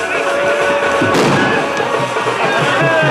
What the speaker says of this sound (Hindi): बम पटाखे भी छूट रहे हैं।